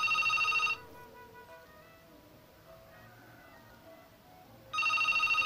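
A fixed-line telephone rings for an incoming call: one loud electronic ring burst, a pause of about four seconds with faint room noise, then the next ring starting.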